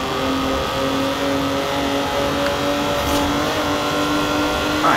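The Alfa Romeo Stelvio Quadrifoglio SUV in Forza Horizon 4 drones steadily at a sustained mid-pitched engine note, loud and continuous, with a faint rising tone toward the end and no voices over it.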